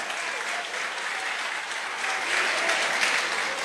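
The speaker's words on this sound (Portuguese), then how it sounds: "Aplauda ele, mas aplauda forte" Church congregation applauding loudly and steadily, a dense wash of many hands clapping that swells slightly toward the end, with no talk over it.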